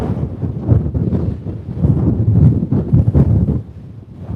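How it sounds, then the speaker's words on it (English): Strong gusts of wind on a Scottish hilltop buffet the microphone in rough, rumbling surges, loud and close, with no voices. "It's too windy."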